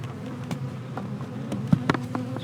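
Honeybees swarm out of a freshly cracked-open hive, a steady close drone of buzzing punctuated by sharp clicks and bumps from the hive woodwork.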